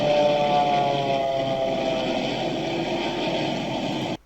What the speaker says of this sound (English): he presents the video of the American Airlines Boeing 787, which was filmed by spotters